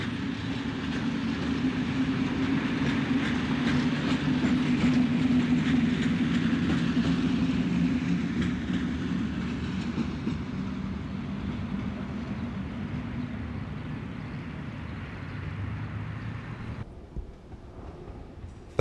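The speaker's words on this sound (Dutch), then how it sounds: "Aan de zuidoostzijde van het station komt een Benelux uit Roosendaal aan." A Benelux passenger train from Roosendaal pulls into a station, its rumble and wheel rattle loud and steady throughout before easing off near the end, with no voices.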